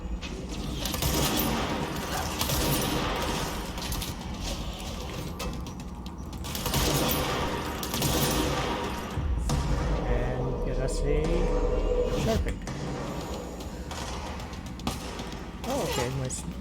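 Sniper rifle shots and other gunfire in the video game Control, several sharp bursts within steady in-game noise and a player talking.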